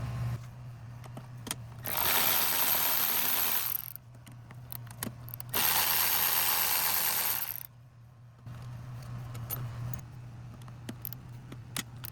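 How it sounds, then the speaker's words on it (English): Ratchet working loose the 10mm screws on a Lexus ES 350 V6 engine during a spark plug job, with two sustained bursts of rapid clicking separated by quieter pauses and a low hum underneath, close and fairly loud. "Now we can pull the 10mm screws here."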